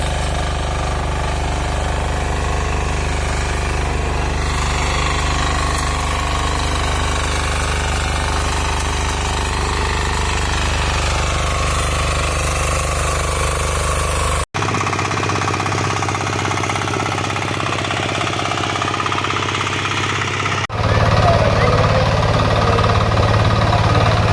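A 9 HP Maijo Weima power weeder engine runs steadily and loudly close by, a continuous throbbing mechanical drone with two brief cuts in the sound.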